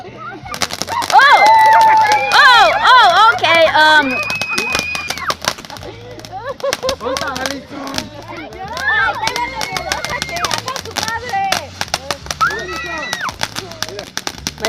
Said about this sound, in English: Here's the next firework over here.